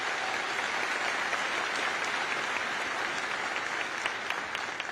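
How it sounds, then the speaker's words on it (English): Sustained, dense applause from a large commencement audience at the University of Alabama, steady and loud throughout with no one speaking over it. "So I would like to get a round of applause for Dr. Bell for 10 years of tremendous service to the University of Alabama."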